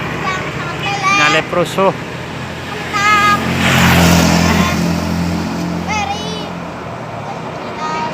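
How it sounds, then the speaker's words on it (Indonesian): Bus overtaking on a highway, a loud rising engine and tyre roar that swells through the middle and fades, with horn-like tonal bursts and people chattering over it nearby. "Itu ada bus sedang nyalip"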